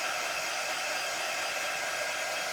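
A hair dryer drying a craft design, heard up close as a loud, steady, unbroken whooshing whir with no voices.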